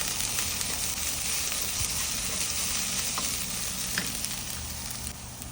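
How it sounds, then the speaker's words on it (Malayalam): Sliced onion and green chili sauté in hot oil in a pan for cauliflower curry, giving a steady, close sizzle with occasional faint stirring taps and no talking. "എന്നിട്ട് സവാള നന്നായിട്ട് സോട്ട് ചെയ്യുക, സോഫ്റ്റ് ആവുന്ന വരെ."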